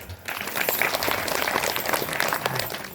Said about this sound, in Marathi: आता परत एकदा टाळ्या वाजवा.